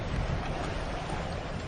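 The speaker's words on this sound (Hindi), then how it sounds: "कितनी तेज हवा चल रही है।" Strong wind blows in a cartoon scene, a dense, steady, broadband rush filling the short stretch at moderate level, with no voices.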